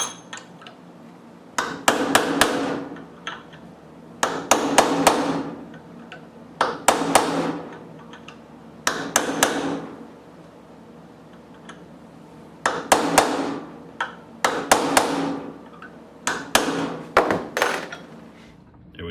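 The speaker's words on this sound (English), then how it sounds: "So I'm just going to take and peen that over a little bit to lock that in place." A hammer peens over a small metal part to lock it in place while a custom wing nut is machined, landing in clusters of sharp, ringing close blows separated by short pauses, about seven bursts in all.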